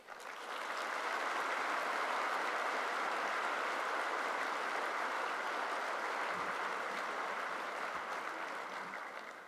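A large audience at a 1916 centenary eve gathering applauding steadily, the clapping swelling in quickly, holding at full volume, then easing slightly at the end.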